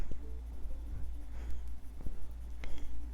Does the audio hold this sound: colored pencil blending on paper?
yes